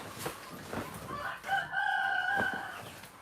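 Chickens cluck softly at moderate distance while a rooster lets out a drawn-out crow in the middle, with scattered faint clucks before and after.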